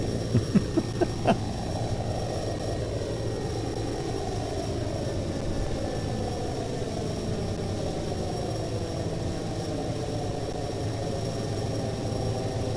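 In the Fly! 2K flight simulator game, a light aircraft's engine drones steadily on a runway at Peoria International, a constant hum with a few clicks at the start and a slow falling pitch sweep.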